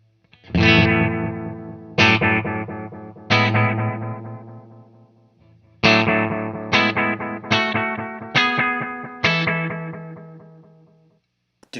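Guitar played through a delay pedal, bright crisp repeats, with a sequence of struck chords and notes, some ringing long and others in quicker succession, each trailing off into echoes, with no voices.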